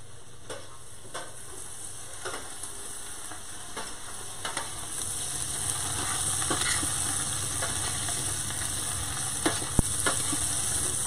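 Garlic sizzles and toasts in a pan with dry aged beef, a steady close crackle with scattered sharp pops and a brief stir, no talking.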